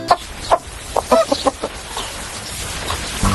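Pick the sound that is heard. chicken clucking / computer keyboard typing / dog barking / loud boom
chicken clucking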